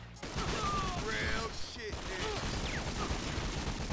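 Rapid gunfire bursts crackle constantly in the video game 50 Cent: Bulletproof, a dense fusillade of shots layered with in-game voices and other effects, loud and unbroken throughout.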